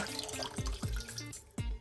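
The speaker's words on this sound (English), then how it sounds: "then the rest of the water goes directly into the pot" Water pours and splashes into a cooking pot while atole is being made, a close, burbling liquid sound with a few gurgling surges and brief pauses in a kitchen.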